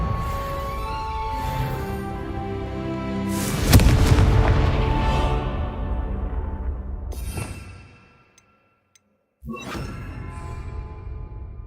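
Spell explosions in the Hogwarts Legacy video game: a sharp whooshing blast lands near the four-second mark over steady game music, rumbles out and cuts to a short silence, then a second burst hits.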